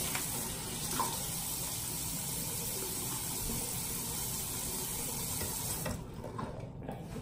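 A tap runs steadily into a sink while someone wets their face before washing it, a continuous close hiss of water with small splashes that thins out near the end.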